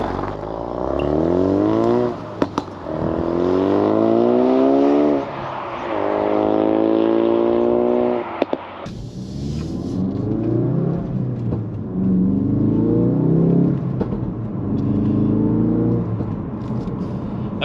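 A 2016 Ford Focus RS MK3 engine revs and pulls hard through several gear changes while driving, with rising harmonic sweeps, brief shift pauses and loud, close-miked cabin drone throughout.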